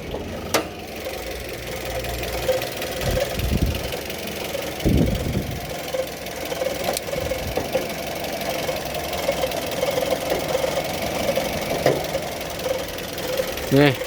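A 2008 Toyota Yaris engine running, heard from the open engine bay as a steady, fairly loud mechanical hum and ticking throughout, with someone talking over it.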